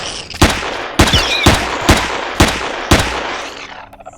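Six sharp pistol shots in Empyrion: Galactic Survival, fired at a spider, spaced about half a second apart, loud and close with short decays and no voices.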